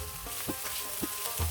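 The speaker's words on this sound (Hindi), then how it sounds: "पाँच मिनट तक इसको फ्राई करेंगे" Close, continuous sizzle of onions and chillies frying in a pan, with a few soft stirring scrapes and no talking.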